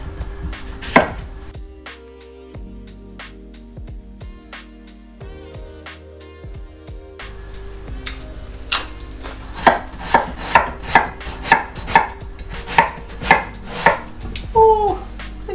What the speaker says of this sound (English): And then just gonna cut up this whole cucumber and make a really big salad.